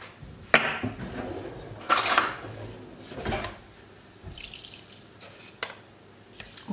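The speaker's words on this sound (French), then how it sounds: "Je vais mettre une casserole d'eau à bouillir." Water runs from a kitchen tap into a saucepan in several short, splashy bursts separated by quieter pauses, with a few small clanks of the pan and no talk.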